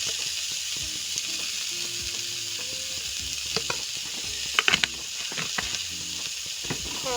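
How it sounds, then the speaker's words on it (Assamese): Potatoes frying in a pan for pav bhaji, with a steady loud sizzle and hiss throughout and occasional scraping clicks of a spoon stirring. "এইদৰে আপোনালোকে মাজে মাজে লৰাই থাকিব"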